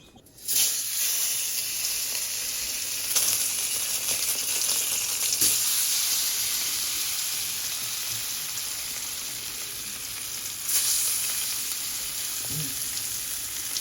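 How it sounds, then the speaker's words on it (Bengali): Tilapia fish frying in hot oil, a loud, steady close-up sizzle with hissing and popping that holds through the whole stretch, with small bursts now and then. "ও তেলটা ভালো করে গরম হয়ে গেছে, এখন আস্তে করে ছেড়ে দিব।"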